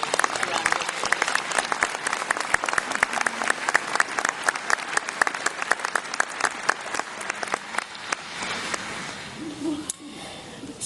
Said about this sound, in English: do give yourselves and everyone who's made this possible a round of applause